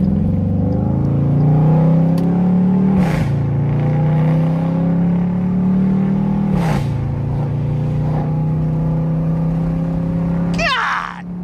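A catless Dodge Durango RT engine blips loudly on repeated downshifts, with two or three sharp rev spikes over a sustained, close, rumbling drone. A short burst of higher engine noise comes at the end.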